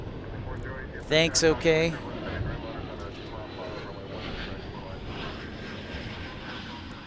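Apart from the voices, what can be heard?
Ameriflight Embraer propeller aircraft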